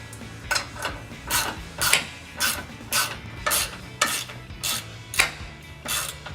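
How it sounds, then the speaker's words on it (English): A hand ratchet drives nuts down with a 13mm socket while a skid plate is fitted to a 2019-2024 RAM 1500's Barricade HD front bumper, giving a steady run of about a dozen close, crisp clicking bursts in even rhythm. "grab our nuts, hand tight, 13mm socket. We're going to tighten these down."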